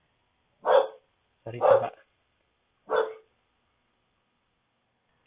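A dog barks three times in separate loud, close barks spaced about a second apart, then silence; a brief spoken apology comes in among the barks.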